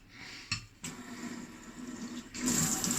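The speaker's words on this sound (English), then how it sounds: "I'm going to give it a quick rinse" Water gushes from a tap over cooked rice for a quick rinse while making Persian saffron rice, a rushing splash that starts, pauses briefly, then resumes louder and steadier.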